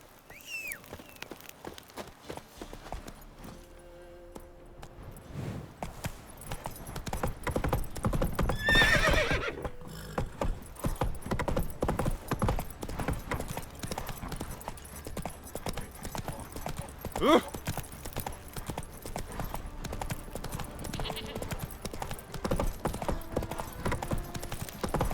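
Horses in The Witcher 3: Wild Hunt clip-clop steadily over ground, hooves thudding in an irregular walking rhythm that grows denser and louder, with a prominent neigh near the middle and another later; brief voices occur faintly.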